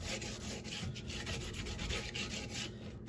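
Steel wool scrubbing rust off a cast iron skillet makes a close, harsh rhythmic scouring in rapid back-and-forth strokes, loud and continuous, with no voices.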